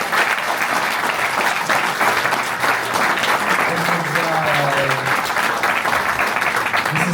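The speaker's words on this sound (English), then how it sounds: "we gotta give this a round of applause" Sustained applause from a crowd at a live chess event in Hamburg, steady and dense clapping throughout, with a voice faintly audible underneath.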